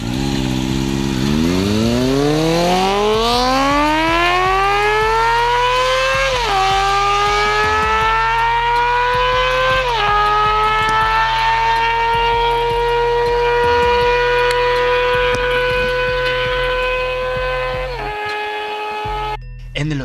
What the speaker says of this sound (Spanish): Con sus 4 cilindros con un salto muy corto, es capaz de llegar hasta las 20000 revoluciones por minuto